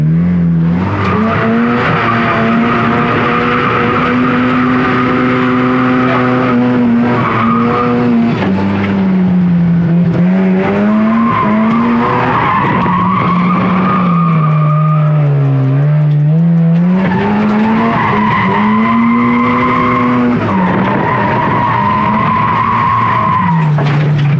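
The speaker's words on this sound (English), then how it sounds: "Just spun out because of me hitting on lock." A Mazda RX-7 coupe drifting and spinning out, its engine roaring loudly and continuously while the tires squeal and skid with a rising and falling pitch throughout, close and dominant, no talking.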